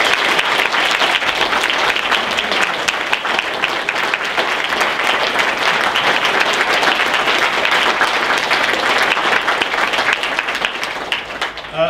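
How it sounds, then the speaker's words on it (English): Sustained audience applause fills a concert hall after a Dixie soloists' vocal performance, dense and loud clapping from a large crowd continuing steadily for the whole stretch before tapering slightly at the end. "Let's give them a round of applause."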